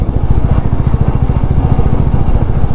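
A motorbike engine runs close and loud on a trip in Sikkim, a rapid, even throbbing putter that holds steady for the whole stretch.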